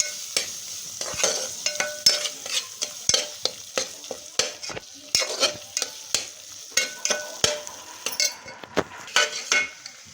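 Mutton sautéed with mutton masala in a pan, a spoon scraping and stirring in quick repeated strokes over a steady close sizzle, with occasional metal clinks and no talking.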